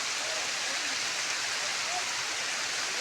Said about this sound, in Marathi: झाली तर पाऊस पण पडतोय.